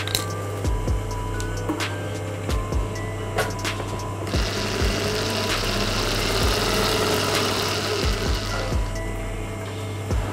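A sewing machine stitches darts on a blouse, its motor whirring in short bursts with clicking and clinking of the mechanism, steady and close.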